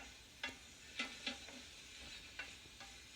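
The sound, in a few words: mixing casserole ingredients with chorizo and spinach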